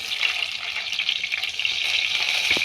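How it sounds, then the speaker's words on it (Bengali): Nigella seeds and slit green chillies crackle in hot oil as a tempering for a vegetarian teasel gourd dish, a steady bright sizzle that stays close and even throughout with no voices. "সেই তেলে আরেকটু তেল দিয়ে আমরা এর মধ্যে দিয়ে দেব ফোড়ন হিসেবে কালো জিরে আর দুটো চেরা কাঁচা লঙ্কা"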